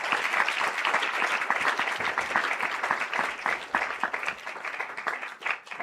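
An audience at a community centre's 100th birthday celebration gives performers dense, continuous applause that holds steady for several seconds and then thins slightly at the end.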